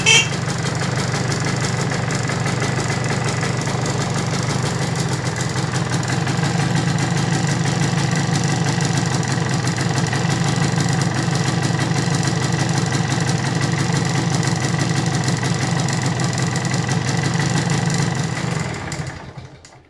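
An MZ TS250/1 two-stroke motorcycle, a Supa Five, idles steadily up close with a continuous burbling tick-over and a droning low rumble, holding even for the whole stretch before cutting off at the end.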